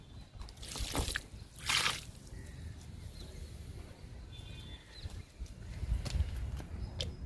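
Homemade liquid fertilizer is poured onto a potted jasmine plant. A few separate splashing trickles come close by, one after another, with quiet pauses between them.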